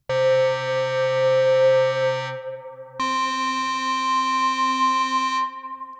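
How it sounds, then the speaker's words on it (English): A Mynth synthesizer sounds two sustained, harmonically rich tones one after another with the filter bypass removed. Each steady note rings loud and alone for a couple of seconds, with a brief gap between them. "When I remove the filter bypass,"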